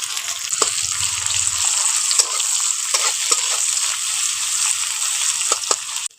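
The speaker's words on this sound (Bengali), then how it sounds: "পেঁয়াজ কুচি দিয়ে দিচ্ছি।" Chopped onion sizzles in hot oil with cumin seeds in a pan, a steady close hiss broken by scrapes and stirring clicks, with no talk.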